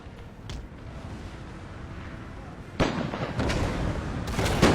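Musket gunfire in the Napoleon Total War video game, a Darthmod Russian campaign battle, with distant crackling volleys and booms over a steady rumbling background, growing louder toward the end.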